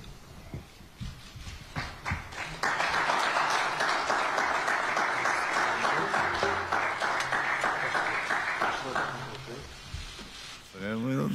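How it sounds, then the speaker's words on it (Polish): Studio audience at a Polish football discussion show breaks into loud, steady applause that swells after a moment of background chatter and lasts several seconds before fading out. "To dużo oklasków"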